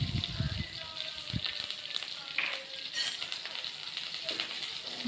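Curry leaves crackle and sizzle in hot oil alongside dried red chilies for beetroot poriyal, a steady frying hiss with a few sharp pops and light stirring clinks, moderately close.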